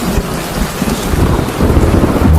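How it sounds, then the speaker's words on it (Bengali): Heavy rain pouring down with thunder, a dense, loud hiss of rainfall with low rumbling swelling beneath it toward the end. "বৃষ্টি চলছে,"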